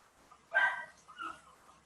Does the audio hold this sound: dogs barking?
yes